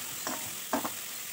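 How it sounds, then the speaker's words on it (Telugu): Onions and finely chopped carrot frying in a pan for noodles, with a faint steady sizzle and a couple of brief stirring scrapes, close up and alone. "ఉల్లిపాయలు కొంచెం వేగాక సన్నగా తరిగిన క్యారెట్ని యాడ్ చేసుకొని వేయించుకోవాలి."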